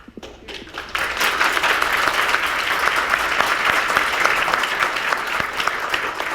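Audience at a township board meeting on a proposed data center breaks into applause; a few scattered claps first, then a dense, sustained round of clapping that holds at full strength throughout.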